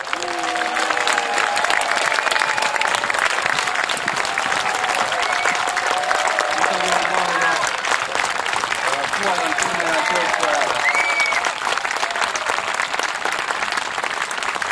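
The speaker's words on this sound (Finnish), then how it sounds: "Aplodit heille." Audience applause at a medieval horse tournament show in Hollola fills the whole span as sustained, loud clapping from a crowd. Voices and cheers rise here and there within it.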